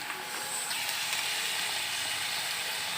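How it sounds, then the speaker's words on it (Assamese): Potatoes and a spice paste fry in a pan, giving a soft, steady sizzle close by with no talking. "আৰু মই এতিয়া পেষ্টখিনি ইয়াতে দি দিম দি পেলাই ভালদৰে সেয়া ভাজি লৈছোঁ"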